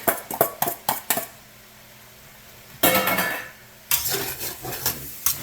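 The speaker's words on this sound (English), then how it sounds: "Continue to fry that." Jalapenos, ginger and garlic frying in a pan for red curry pork, with a quick run of utensil clinks and scrapes against the pan, then a pause, then longer bursts of stirring and sizzle.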